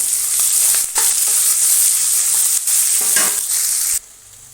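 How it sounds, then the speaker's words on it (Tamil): Onions sizzle and crackle loudly in hot oil in a pan, with a steady frying hiss broken by a few stirring scrapes, then dropping quieter at the end. "வெங்காயம் நல்லா வதங்கட்டும்"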